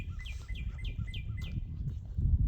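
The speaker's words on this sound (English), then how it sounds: "I apologize for any birds" Small birds chirp outdoors beside a truck bed at a woodworking site, with a rapid run of repeated high tweets over low background rumble, fading out in the second half.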